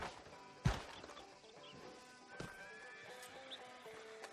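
Horse in the video game Red Dead Redemption 2 at a town sheriff's office, a loud sharp thud followed by a brief snort or whinny, then another knock and quieter hoof and ambient sounds.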